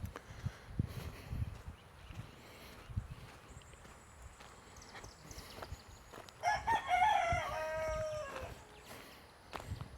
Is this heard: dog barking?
no